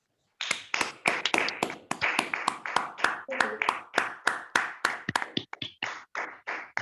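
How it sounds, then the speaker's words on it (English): Applause from participants in an online club meeting: sharp, separate claps in quick uneven bursts, fairly close and clear, running steadily for several seconds with no talk. "Can we please unmute and give him a big round of applause?"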